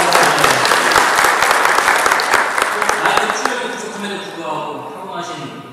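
A conference hall audience at a sustainable development forum applauds loudly with dense, crisp clapping that thins out and fades toward the end, with no speech over it.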